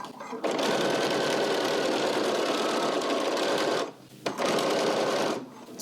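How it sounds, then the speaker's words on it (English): Sewing machine fitted with a quilter's 1/4 inch straight-stitch foot runs in a steady fast whir close by, stopping briefly twice before starting again. "I'm sewing with a quilter's straight stitch 1/4 inch foot"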